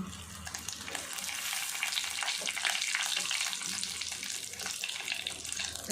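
Fenugreek seeds frying in hot oil for a Tamil fish curry (meen kuzhambu): a steady, close, crackling sizzle that holds evenly throughout, with no talk.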